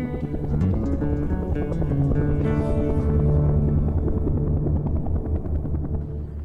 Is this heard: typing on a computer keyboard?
no